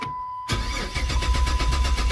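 A car engine cranks over and over with a steady rhythmic churning from the starter, but it never catches, close and fairly loud; a no-start fault.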